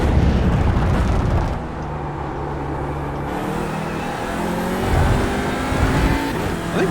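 Engine of an Audi RS3 TCR touring race car in the iRacing simulator at Circuit of the Americas, a loud, continuous drone that shifts pitch as it revs up and down through gear changes, with no talk.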